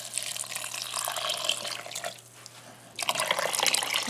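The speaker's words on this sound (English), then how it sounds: "we're going to cover these by 2 inches of water." Water poured into a pot over dried pinto beans for canning: a continuous splashing, gurgling stream that briefly quiets and then surges back louder, with no talk.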